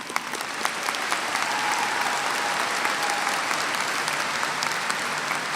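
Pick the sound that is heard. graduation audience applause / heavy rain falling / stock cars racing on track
graduation audience applause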